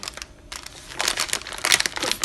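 Crisp plastic crinkling and rustling, close by, building in intensity over a couple of seconds with a few sharper crackles.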